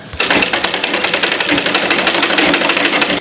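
Sewing machine stitching a garment sleeve with the fabric folded one inch inward, a steady rapid mechanical chatter of needle strokes running close and loud throughout, with no talking.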